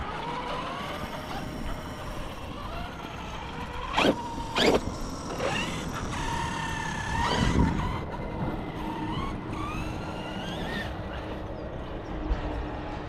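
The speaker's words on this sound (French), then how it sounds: "Tu vois là ça serre le frein à fond, t'as vu?" Tyres screech and skid several times in bursts over a running car engine, fairly close and loud, with no talking.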